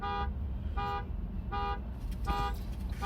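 Outside, a car horn honks four times in an even rhythm of short toots, sounding fairly faint and distant over a low background rumble.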